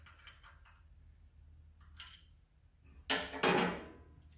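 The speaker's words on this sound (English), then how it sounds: "you just take your trusty half inch wrench, tighten that baby down" A half-inch wrench tightening a part during top-end engine assembly on a 1977 MGB: quiet metallic ticks and clicks, then a louder burst of ratcheting and scraping near the end.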